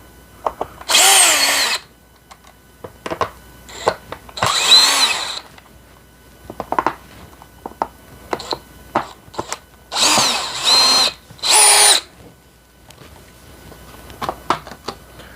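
Power drill backing screws out of a Bissell Multi Clean carpet cleaner, several short whirring bursts of one to two seconds with clicks and handling noise between them, close up.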